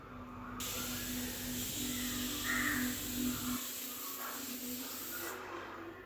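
Pressure cooker whistle on a kitchen stove while cooking a Kerala-style green gram curry, a steady loud hiss of escaping steam running through most of the clip.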